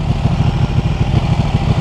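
Motorcycle engine running close and loud, with a rough pulsing low throb that stays steady throughout.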